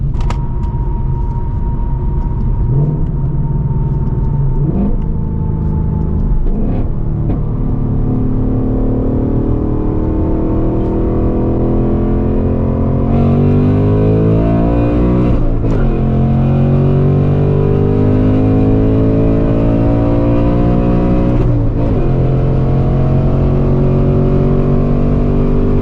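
A 2024 Mustang GT running an E30 blend of E85 pulls hard in second gear, its V8 roaring loud and steady with engine pitch climbing, dipping briefly at shifts, then rising again, close and continuous with no talking.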